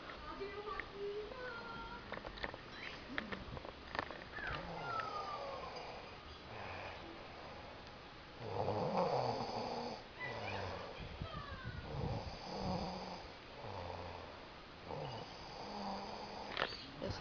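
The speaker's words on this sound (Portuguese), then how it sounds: "Ele tá roncando." A person snores at home in slow, rough, rumbling breaths that come and go over a long stretch, with muffled household noise around them.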